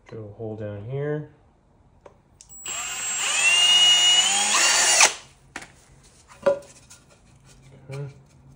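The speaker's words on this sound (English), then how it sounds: "Drill a hole down here." A power drill bores a hole in wood for a wooden step stool for a 1937 Pierce Arrow Travelodge trailer, one loud whining run of about two seconds, with someone talking before it and light workshop knocks after.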